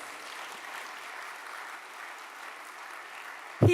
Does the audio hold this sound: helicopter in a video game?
no